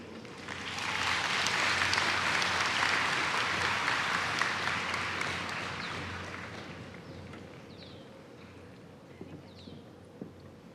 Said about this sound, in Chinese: 现在，请用我们最热烈掌声欢迎侨胞代表陈桂林女士。